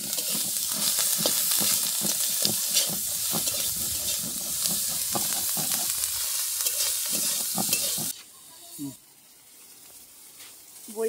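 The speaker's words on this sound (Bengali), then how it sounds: "আমরা এবারে চিংড়ি মাছটা ভেজে নেব।" Prawns frying in a pan for a village-style Bengali prawn curry, a loud busy sizzle with crackling pops and stirring for about eight seconds before dropping to a quiet low hiss.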